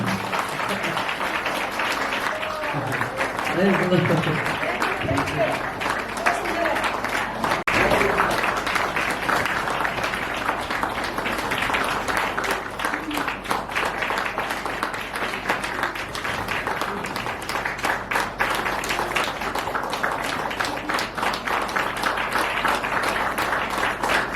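Vigorous audience applause at a prayer centre gathering, continuous dense clapping sustained for over twenty seconds at steady loudness, with some voices briefly audible early on.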